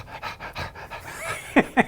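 A voice imitates heavy panting, rhythmic breathy huffs throughout, ending with two louder, sharper gasps close to the mic.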